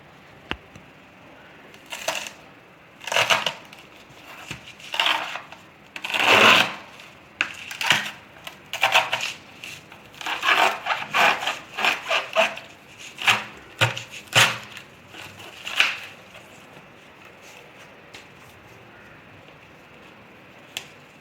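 A knife cuts through a banana stem for juice, giving a series of crisp, fibrous chops and scraping cuts at an irregular rhythm, close by and fairly loud, with no talking.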